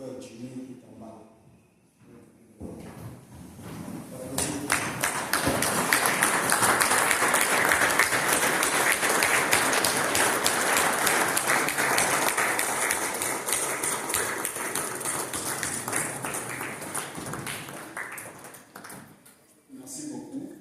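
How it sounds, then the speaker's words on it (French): A church congregation rises and applauds in honor of a man's life, the clapping swelling from a quiet start into a long, loud, sustained ovation before tapering off near the end. "applaudir pour la vie de cet homme"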